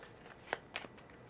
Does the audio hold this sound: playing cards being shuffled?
yes